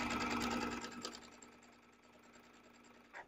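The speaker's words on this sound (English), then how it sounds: "you are going to sew a straight stitch" A sewing machine runs a straight stitch, starting with a dense rapid mechanical whir that gradually slows and fades, ending with a brief click, close up with no talking.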